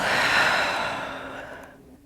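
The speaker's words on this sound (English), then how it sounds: "Big deep inhale. And exhale." A single deep breath during a yoga flow, a breathy airy exhale close to the microphone that starts full and fades away over about two seconds.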